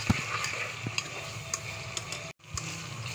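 Ginger and garlic sauté in a pan with a low, steady sizzle, broken by light spoon taps and stirring clicks; close and fairly quiet, with no talking.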